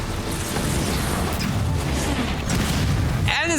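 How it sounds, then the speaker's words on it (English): Plasma torpedo explosions rumble in Halo Wars 2 gameplay, dense low booms and mechanical battle noise under a caster's talk, ending with a sharp sweeping whine. "Now they have plasma torpedoes."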